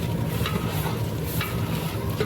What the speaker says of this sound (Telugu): అలాగే ధనియాల పొడి వంద గ్రాములు వేసి బాగా కలుపుకోవాలి